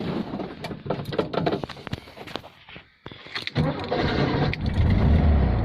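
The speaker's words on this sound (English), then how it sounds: "Starts up nicely." A 1971 Volkswagen Beetle automatic fires up, with a brief cranking burst and clatter giving way after a short pause to a steady, close engine run that grows louder toward the end.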